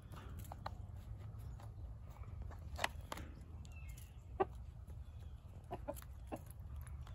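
Backyard chickens foraging on a South Carolina property, soft scattered clucks and occasional sharper calls at a moderate distance, with faint rustling of feet over a steady low outdoor hum.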